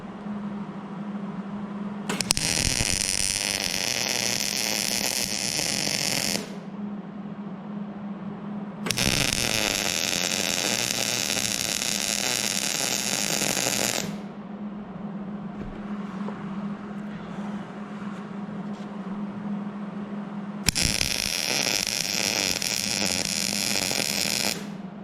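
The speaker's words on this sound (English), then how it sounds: "We'll fully weld it" A dozer blade pin is arc welded in three long bursts of bright crackling buzz, each several seconds long, separated by quieter pauses with a low steady hum underneath.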